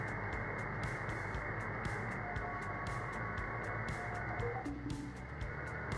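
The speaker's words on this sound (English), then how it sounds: "What you're hearing is the 40 meter amateur band" The 40 meter amateur radio band received on a software defined radio: a dense, continuous wash of band noise and garbled signals, with faint whistling tones and steady ticking interference throughout, no clear talk.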